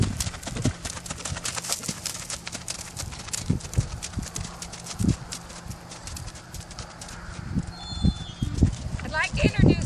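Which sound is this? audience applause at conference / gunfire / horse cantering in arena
horse cantering in arena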